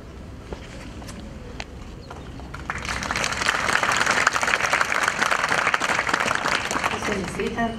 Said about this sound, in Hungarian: a tapsot nyugodtan lehet majd a legvégére hagyni